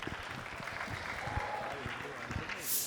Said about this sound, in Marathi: लास्ट परफॉर्मर एकदा जोरदार टाळ्या